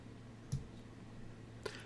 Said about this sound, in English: If I left mouse click, and instead of just clicking and releasing